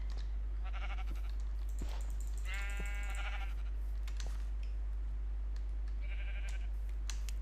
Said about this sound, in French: Ah, du mouton.